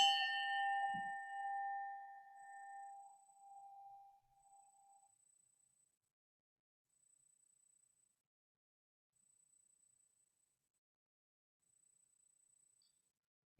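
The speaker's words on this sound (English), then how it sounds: "I'm going to ring the bell for a moment of silence in her memory." A single bell rings for a moment of silence at a meeting. It is one clear strike that fades slowly into silence, with nobody talking.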